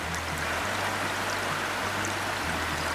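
Water trickles in a steady stream as plants are watered in the video game Plentiful, a soft continuous pour alone with low game background hum and no talk.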